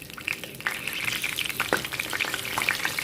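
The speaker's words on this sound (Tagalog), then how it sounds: "magsa-start tayo sa pagprito ng ating isda" Fish frying in a pan with a steady, close crackling sizzle, sharp spatters popping throughout, no voices over it.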